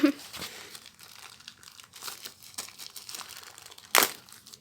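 Charger packaging being torn open by hand, giving crinkling, crumpling plastic and paper sounds in short bursts with a sharp rip near the end, under occasional nearby talk.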